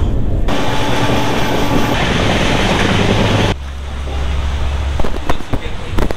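Loud, steady rumble and rush of the Kriya Yoga Express passenger train running on rails from Howrah to Ranchi, shifting abruptly to a lower, rattling roar with clanks near the end.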